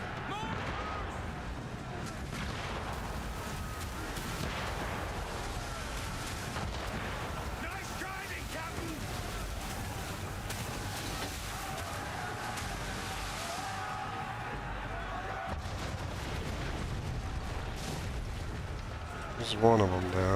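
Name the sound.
mortar fire in the video game Assassin's Creed III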